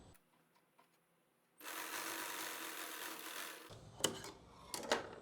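A sewing machine runs in one steady stretch of stitching while making a circular umbrella palazzo, starting after a quiet moment and stopping before a few sharp clicks and handling noises.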